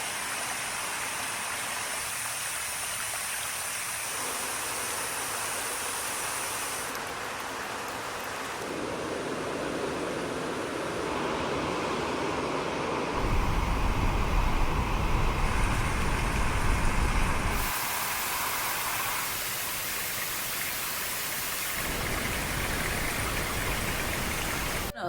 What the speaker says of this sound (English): When I put it on, you can listen to all the white noises there is.